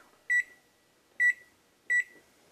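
An oven timer being set: three identical short, bright electronic beeps at a steady, evenly spaced rhythm, close and clear against a quiet kitchen, with no talking.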